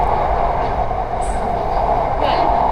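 Steady loud rumble of an electric commuter train in motion, heard from inside the carriage, with a faint squeal or chime now and then.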